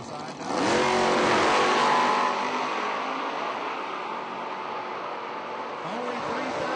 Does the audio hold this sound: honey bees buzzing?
no